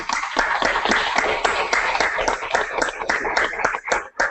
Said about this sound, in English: I think a big round of applause at this juncture.